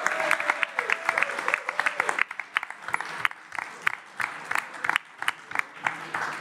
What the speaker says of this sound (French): je pense qu'on peut leur faire un tonnerre d'applaudissements